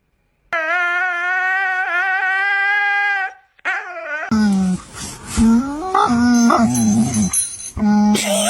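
A newly adopted dog whimpers in a long, high, wavering whine, then breaks into yips and squeaky cries close up, with people's voices mixed in toward the end.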